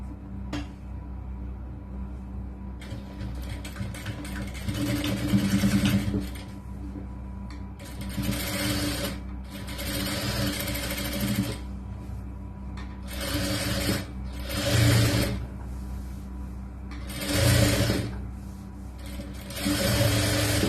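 A sewing machine stitches a churidar top's lining in repeated close, fast mechanical whirring bursts, each separated by short pauses.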